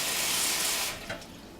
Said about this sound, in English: Then fill your pot with hot water.